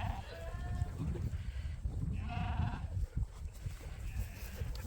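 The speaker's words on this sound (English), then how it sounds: "See, sheep aren't very good runners, eh?" Ewes on a farm bleat in short wavering calls at a moderate distance over a steady rumble of movement and background noise, with several calls overlapping.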